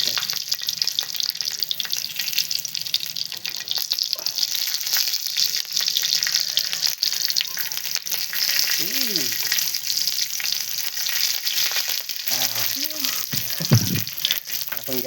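Stuffed green chillies frying in hot oil give a loud, dense, continuous sizzle and crackle close by, with a few brief clatters from turning them near the end.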